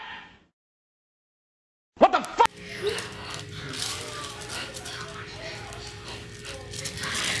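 A home freezer opens with a sharp click and latch rattle after a brief silence, followed by rustling and a low steady hum as it stays open.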